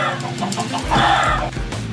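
Minecraft chickens clucking in a quick series of close, nasal bird calls over a steady game background, with no speech.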